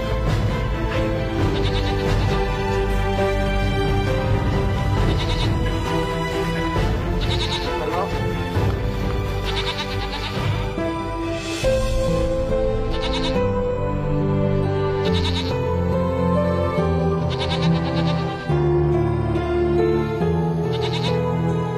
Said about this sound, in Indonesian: Sekarang kita gembalakan kambing dulu ya.